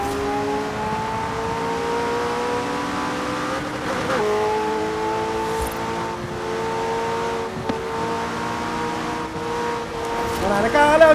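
A McLaren engine in Forza Horizon 4 drones steadily, its pitch rising and falling through gear changes, with tyre noise and a louder surge at the end. Someone talks over it.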